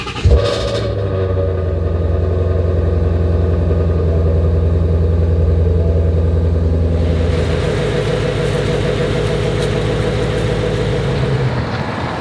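A Shelby car engine runs with a loud, steady low rumble that holds for about twelve seconds, shifting slightly in tone partway through.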